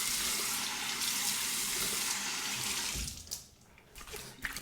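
Cold tap water running into a sink while the face is rinsed after a shave with a Japanese-style shavette razor, a steady rushing stream that breaks into softer splashes and trickles toward the end.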